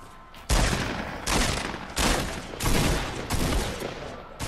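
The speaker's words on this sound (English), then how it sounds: "I missed every shotgun and shot." Rapid shotgun blasts in the Fortnite video game, five loud sharp shots spaced roughly every half to one second, each with a brief decaying tail and no talk over them.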